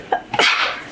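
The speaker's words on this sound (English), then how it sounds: "Now I'm filming him sneezing." A single sharp sneeze, close by, with a quick inhaled catch just before the burst and a breathy trailing release.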